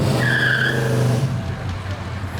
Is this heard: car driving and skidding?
yes